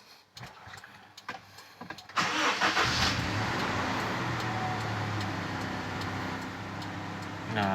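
A 2006 Toyota Innova engine is started: clicks and key noises, then the starter cranks and the engine catches into a steady, slightly rough idle that runs on loudly and close by.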